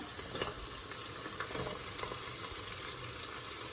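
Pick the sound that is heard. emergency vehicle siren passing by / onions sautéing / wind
onions sautéing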